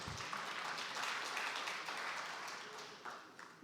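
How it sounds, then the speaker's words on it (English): An audience at an agriculture conference session applauds, a soft, continuous wash of many hands clapping heard from a distance, fading slightly toward the end. "please go ahead if you want to clap"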